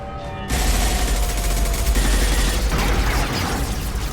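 A dense, continuous volley of gunfire in Mass Effect: Legendary Edition erupts suddenly after a brief quiet moment, loud and sustained with a roaring, crackling texture that carries through to the end.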